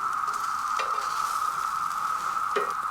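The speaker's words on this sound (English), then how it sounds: "Look how crispy this cast iron gets these hash browns." Hash browns crackle and sizzle in a cast iron skillet at a camp stove, a steady close frying hiss with a couple of scraping turns of a spatula.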